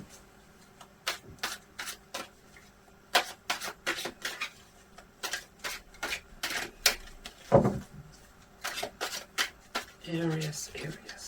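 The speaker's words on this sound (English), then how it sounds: "I just need to shuffle my cards a little bit" Tarot cards riffled and shuffled in quick repeated bursts, crisp and close, with short pauses between each round.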